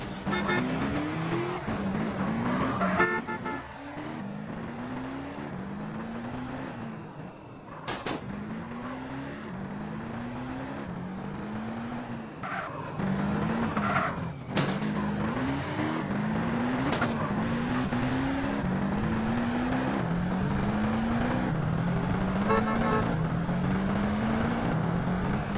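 Car engine in the GTA video game, a steady motor drone with repeated rising gear-shift sweeps over about twenty-five seconds, a few sharp clicks and honks breaking through, no talk.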